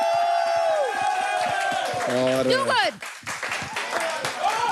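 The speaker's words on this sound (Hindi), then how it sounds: "बट आई थिंक एक बार अपने मेंटर्स के लिए ताली बजाइए" A live studio audience at a show's grand finale applauds and cheers its mentors, dense crowd clapping with whoops under an amplified host's voice and music, fading somewhat toward the end.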